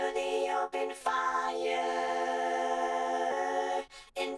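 Sung vocal phrases are processed through an Ovox vocoder plugin in a Cubase session, producing sustained robotic, chord-like tones that hold for several seconds with short breaks between them.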